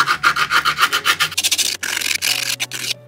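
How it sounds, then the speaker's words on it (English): A screwdriver rubs repeatedly along the edges of a wooden skateboard deck, giving a close, steady run of dry scraping strokes in a quick back-and-forth rhythm. "Grab yourself a screwdriver, and you're basically just going to rub the sides of these all the way around"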